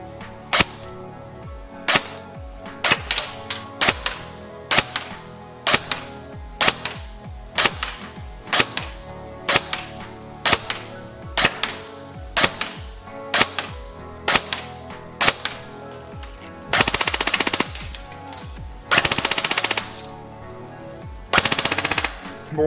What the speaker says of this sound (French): On va aller au test chronie et au test de tir